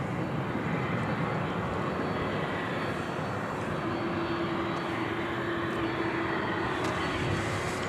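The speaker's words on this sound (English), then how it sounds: "There's this Dreamliner all lit up and headed over to the American Airlines hangar here on the west side." A Boeing 787 Dreamliner taxis at night toward the American Airlines hangar at DFW Airport, its engines giving a steady low rumble and a faint whine throughout, with no talking.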